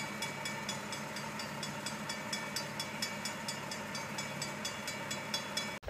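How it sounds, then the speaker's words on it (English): A train rolls past steadily, its wheels clicking in a regular rhythm over the rails under a constant rumble, fairly distant and moderately quiet. "What, they got a whole nother train coming through?"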